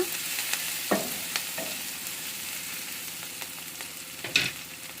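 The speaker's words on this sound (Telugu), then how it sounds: "పసుపు వేసి మంచిగా ఇలాగా పచ్చివాసన పోయే వరకు కొంచెం ఒక 1 మినిట్ ఇలాగా కలియపెట్టుకున్న తర్వాత" Turmeric and ginger paste are stirred in a frying pan, with a steady soft sizzle of frying beneath occasional scraping strokes of the spoon, close and fairly quiet.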